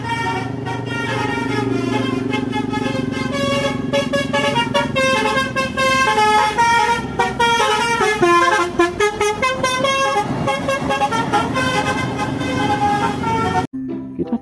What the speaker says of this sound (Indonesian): Wah, yang ini ada bus STJ